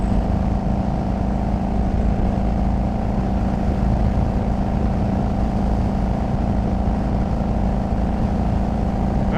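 Steady droning engine of an older Harley-Davidson Road King motorcycle while riding, loud and continuous with a constant low hum and wind rush, no voices.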